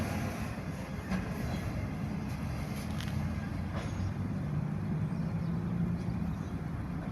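A grain train passes at Unanderra, a steady loud rumble of rolling wheels and wagons with a faint squeal, continuous throughout and without talk.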